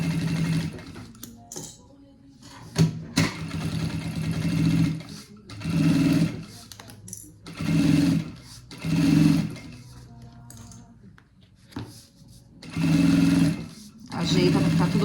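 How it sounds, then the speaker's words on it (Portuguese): A sewing machine runs in repeated short bursts, stitching a safety seam through the layers of a fabric suitcase, with pauses between runs while a person talks nearby. "E vai fazer a costura de segurança aqui do material todo"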